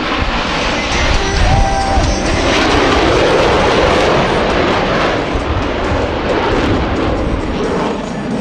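A US Navy Blue Angels jet roars through a barrel roll break at the 2024 Vero Beach Air Show, producing a loud, continuous, powerful engine rush that stays close and dominant.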